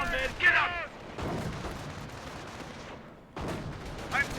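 Gunfire and artillery in a World War II battle in Company of Heroes, with rumbling booms and scattered shots under a game voice line and commentary.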